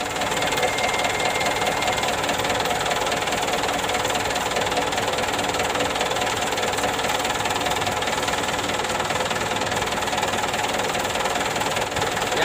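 A car engine runs steadily while its radiator is drained, a loud continuous idle with a rough knocking rattle, close up and without voices.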